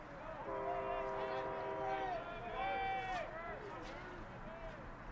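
Trains pass in the distance near a ballpark during a baseball game between Everett and Edmonds, sounding a train horn in long, sustained chord-like blasts over a steady outdoor background.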